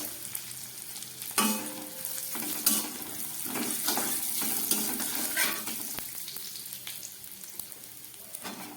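Cashews and raisins frying in ghee, a steady soft sizzle with occasional spoon scrapes and stirring clinks against the pan, close and fairly quiet, no talking.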